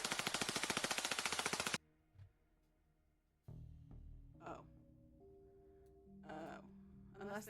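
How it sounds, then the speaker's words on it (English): Gunshots fired at a zombie in The Darkside Detective: a loud, rapid burst of evenly spaced shots that cuts off abruptly, followed by quiet ambience and brief sounds. "Fire a few rounds to chase it off"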